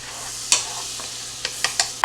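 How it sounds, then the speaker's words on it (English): Butter sizzles steadily in a hot pan, a constant hissing fry up close, with a few sharp clicks of a utensil against the pan. "I'm going to bring this to a sizzle,"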